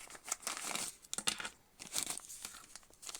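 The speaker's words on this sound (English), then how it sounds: "Ziploc bag." A crinkly Ziploc bag holding earphone tips is handled up close, giving bursts of sharp crinkling and rustling in irregular waves with brief pauses between.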